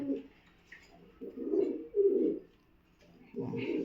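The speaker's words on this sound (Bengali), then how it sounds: "এই হলো কবুতর, কাজ করা টাইপের" Pigeons coo in soft, low, throaty bursts, a few calls close by with quiet pauses between them.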